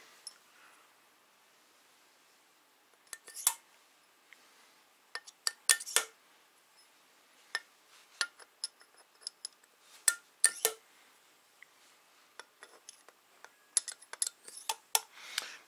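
Metal valves sliding into a VW MK4 12V VR6 cylinder head, sharp scattered clicks and light metallic taps in a quiet shop, irregular and close, with near silence between them.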